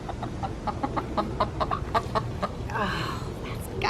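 A broody hen clucks repeatedly in short, agitated bursts right after being dunked in an ice bath, close and fairly clear, ending in a longer, harsher squawk.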